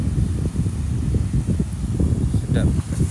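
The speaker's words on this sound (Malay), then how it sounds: "Angin sini sedap tau." Steady wind along the seashore at Pantai Hiburan, Kuala Rompin, Pahang, a continuous low rumble and buffeting against the microphone, with a person talking over it throughout.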